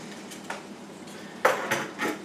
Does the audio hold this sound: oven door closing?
yes